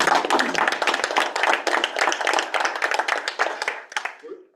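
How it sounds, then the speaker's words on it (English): Small room at a town aldermen meeting breaking into a round of applause for a police officer, a close, fairly small group clapping with audible individual claps, strong at first and tapering off to silence. "I think that he deserves a pretty good round of applause for that"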